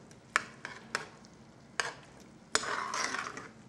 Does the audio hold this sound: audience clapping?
no